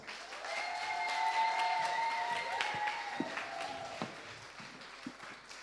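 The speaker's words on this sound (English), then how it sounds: "Please give them a big round of applause." An audience claps and cheers in a warm burst of applause that gradually thins out, with a sustained musical tone underneath and a few sharp claps near the end.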